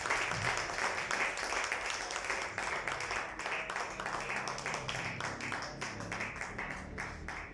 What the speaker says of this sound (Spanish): Que den un fuerte aplauso a Cristo Jesús.